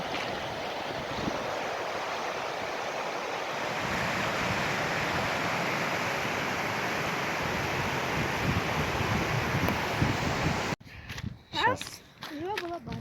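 A shallow spring river at Belogorka, Kyrgyzstan, carrying little water, rushes in a steady broadband wash for about eleven seconds before cutting off as a voice starts talking.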